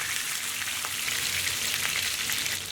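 Chicken pieces frying in a pan, a steady, close, dense sizzle and crackle of hot oil without any voices.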